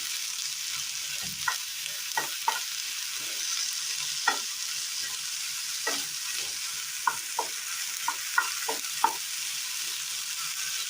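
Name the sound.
chopped eggplant being stirred and sautéed in a pan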